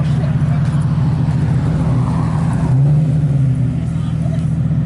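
A Toyota Aristo with a 2JZ engine drones loudly and steadily at a race, its low engine note rising and falling slightly, with crowd chatter mixed faintly underneath.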